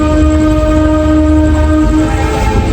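Aboard a moving passenger train at night near Kanpur on an Agra-to-Kolkata run, a loud, constant rumble fills the carriage, with a sustained droning hum running through it and no speech.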